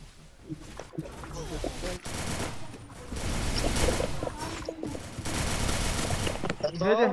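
Rapid bursts of gunfire in a team shooter video game match, loud and continuous with short pauses, under excited in-game voice chat from several players.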